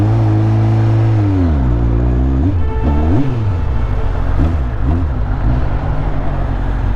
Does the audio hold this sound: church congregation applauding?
no